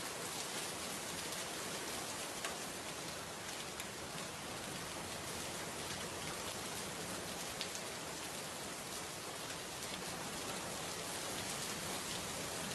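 Steady, dense rain pours down on a monsoon day in a village, an even hiss with no breaks, close and continuous throughout.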